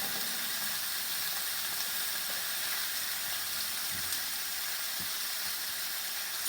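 Pieces of cut pork sizzling in a pan for chile verde, a steady broad hiss of frying at moderate level with a couple of soft thumps.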